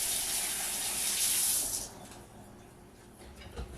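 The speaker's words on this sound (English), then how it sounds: "Once again, rinse off your hands." Running tap water splashes loudly over hands being rinsed in a kitchen sink for about two seconds, then cuts off, leaving faint drips and handling noises.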